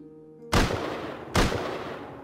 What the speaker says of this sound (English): He's getting shot at by multiple people.